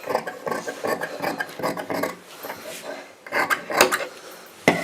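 Scissors cut through blouse fabric pinned at the neck side in a run of close, rhythmic snipping and rasping strokes. Louder, sharper cuts come near the end.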